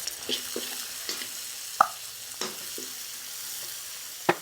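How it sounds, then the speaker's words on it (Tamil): Chana dal frying in oil with small onions going into the pan; a light sizzle sits under several sharp spoon clinks and taps against the pan, spaced irregularly and heard close up. "கடலை பருப்பு இந்த அளவுக்கு செவந்ததும் வெங்காயம் போடுறோம்."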